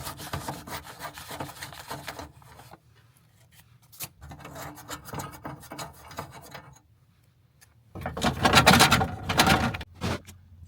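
Bursts of rubbing and scraping come from a Nissan 300ZX door as window regulator parts are unbolted and worked loose, with pauses between them and a louder grinding stretch near the end.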